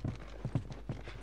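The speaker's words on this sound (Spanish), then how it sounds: "Vamos con los caballos." Horse hooves clip-clop in The Last of Us video game, a short run of soft, irregular thuds heard close and alone.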